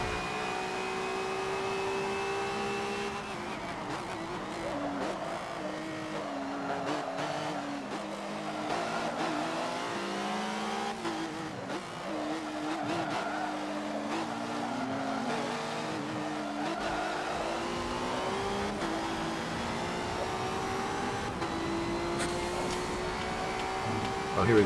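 A race car engine in Forza Motorsport 7 drones through a long straightaway, its pitch rising and falling with gear changes, with occasional tire squeal and other cars close by.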